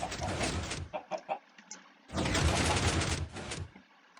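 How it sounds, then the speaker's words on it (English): Minecraft chickens clucking inside a piston door contraption, a busy clatter of rapid, overlapping game sounds in two dense bursts with scattered short clucks between them. "And this is where the chickens come in."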